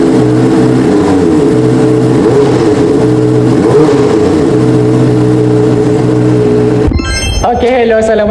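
A QJMOTOR SRK600RC 2025 motorcycle idles with a steady, loud droning engine note, then cuts abruptly into other sounds near the end.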